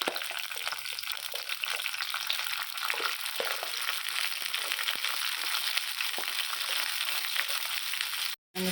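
Turkey berries (sundakkai) and whole spices crackle in hot oil as a steady, dense sizzling hiss, close and fairly loud, broken by a brief dropout near the end.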